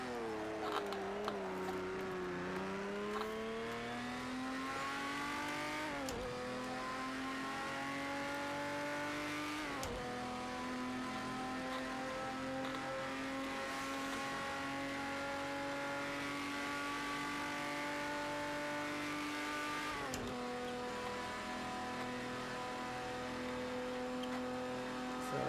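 A race car engine in Project CARS 2 at a 1971 Le Mans race, a steady high-revving drone that sweeps up through the gears with sharp shift breaks, continuous and fairly close.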